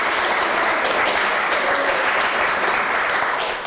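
Studio audience applauding loudly and steadily at the opening of the French TV game show Des chiffres et des lettres, a dense wash of clapping that holds for several seconds before tapering slightly at the end.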